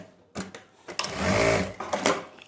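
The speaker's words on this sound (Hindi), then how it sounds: "इस तरह से हमने पहले सिलाई लगा लेनी है अंदर की तरफ फोल्ड करके।" A sewing machine stitches along a folded fabric edge, running in short bursts that build into one continuous whirring stretch before slowing and stopping, close and moderately loud.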